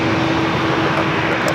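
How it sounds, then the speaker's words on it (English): Aircraft at San Diego airport taxiing away from their gates toward a runway, a steady broadband engine roar with a low tonal hum, continuous and moderately loud throughout. "All I see are just more planes backing out from their gates and heading down at taxiway Bravo to 27"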